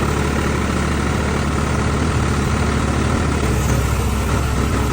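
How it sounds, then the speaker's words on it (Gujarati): A tractor engine runs steadily after pulling a thresher out, a loud continuous low diesel rumble with no break across the whole stretch. "ધીમે ધીમે ટ્રેક્ટર થી ખેંચ્યું પટલર ને બારું"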